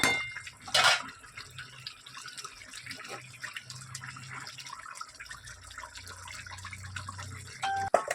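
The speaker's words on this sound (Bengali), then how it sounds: "এবার আমি ঢেলে নিলাম ডিমের ঝোল।" Duck egg curry with cauliflower and potato poured from a pan into a dish, giving a brief liquid splash and clatter of cookware followed by quieter pouring and faint kitchen noise.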